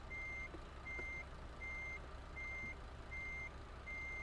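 A truck in Euro Truck Simulator 2 sounds its reversing alarm: six evenly spaced, high electronic beeps over a steady low engine hum, with no voices.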